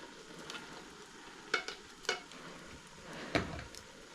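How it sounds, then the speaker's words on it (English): Diced tomatoes being stirred into a Mexican sausage dish in a pot: a few soft scrapes and clinks of a spoon over a faint, steady simmer, quiet and close. "And give it a stir"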